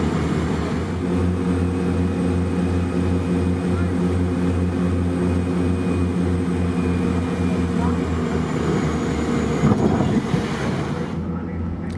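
A Winair Twin Otter twin-engine propeller aircraft on landing approach, its steady loud propeller drone and engine hum continuous and close, with wind rush throughout.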